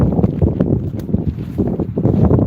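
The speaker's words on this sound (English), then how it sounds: "it's windy, y'all." Wind gusts buffet the microphone outdoors in loud, uneven low rumbles that swell and drop every fraction of a second.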